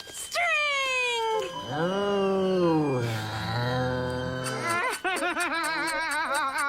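A monstrous cartoon cat from the animated series Flapjack lets out loud, strained, wavering yowls and warbling cries, followed by a burst of rapid stuttering squeals, all in one continuous close performance.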